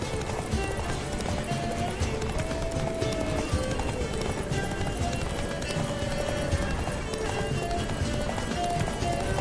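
Geralt's horse Roach galloping in The Witcher 3, a fast, continuous rhythm of hoofbeats over a dense layer of game music and ambience, loud and sustained throughout.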